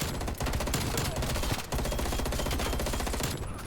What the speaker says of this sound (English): Up next is the FFAR with a 5-on back on Nuketown